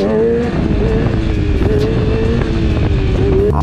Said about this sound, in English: you're going to pull in the clutch, you're going to rev it, and then you're going to dump the clutch